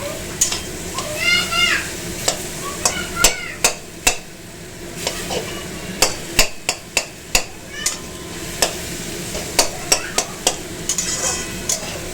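Mashed brinjal mixed with egg fries in a pan for a bharta, with a soft sizzle under a string of sharp spatula scrapes and taps on the pan while voices talk nearby.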